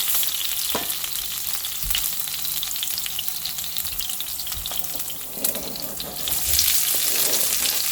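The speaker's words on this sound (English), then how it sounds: "Now we'll add our methi if you are adding it. Just mix it once" Methi (fenugreek) frying in oil after mustard seeds have splattered, a dense continuous sizzle with crackles and a few spatula stirs and taps against the pan, close and steady, with no one talking.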